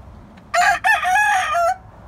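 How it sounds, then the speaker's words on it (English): A single rooster crows once, a short, thin cock-a-doodle-doo that breaks after its first note and trails off, heard fairly close against quiet background. "He's got a pathetic little crow."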